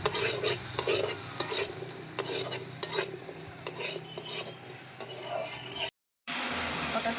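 Pumpkin and mixed vegetables fry with salt and turmeric in a pan, a constant close sizzle broken by repeated sharp metal clinks of a spatula stirring, with no voices, and a brief silent gap near the end.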